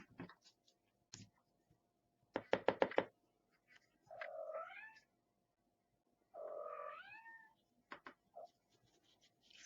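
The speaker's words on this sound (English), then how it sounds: "my cat is really singing you guys a song" A pet cat gives two drawn-out, warbling meows a couple of seconds apart. Scattered knocks and clicks of craft work with distress inks surround them in a quiet room.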